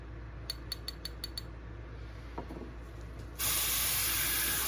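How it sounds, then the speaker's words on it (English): A few quick clicks and light taps, then a sudden steady hiss of an airbrush spraying paint onto a rag, starting abruptly and continuing loudly to the end. "I got a little rag I always spray onto"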